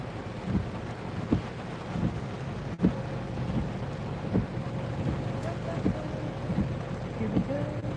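Thunderstorm with rain around a grocery store stop, a steady rushing wash of rain and wind with low rumbling and a few sharper knocks throughout, loud and close, with no clear talk.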